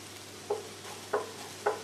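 Potatoes stirred in a pan while making pasties: three short, distinct scraping strokes roughly half a second apart over a faint steady hum, fairly quiet and with no talking.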